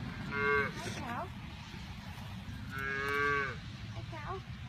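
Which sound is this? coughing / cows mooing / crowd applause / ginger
cows mooing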